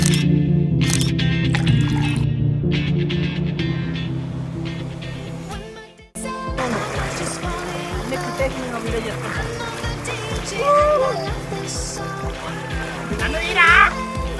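People swim in a fish pond on a summer outing, and one loud splash of someone jumping into the water follows a brief hush, with lighter sloshing and chatter around it.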